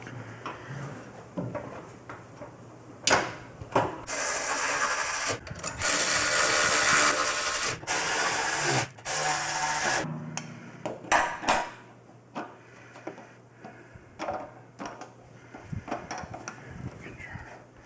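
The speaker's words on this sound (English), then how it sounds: "Make sure to put our retaining ring back in using our laying tool" A retaining ring is worked back into place on a motorcycle bagger fuel tank with a laying tool. Metallic clicks and scraping taps come in uneven bursts, with several louder sustained noisy stretches in the middle.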